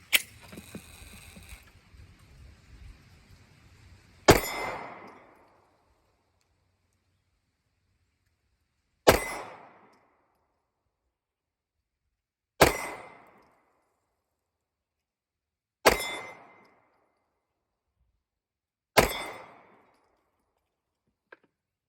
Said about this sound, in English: I'm gonna send 5 shots through the chronograph.